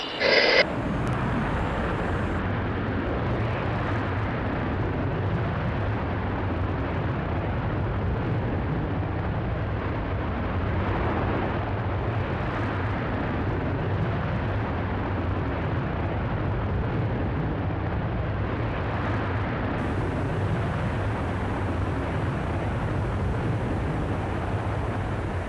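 A Virgin Galactic Unity 22 rocket motor fires after release, a sharp burst giving way to a steady, loud, broadband roar with a low rumbling drone that holds unbroken for the whole stretch.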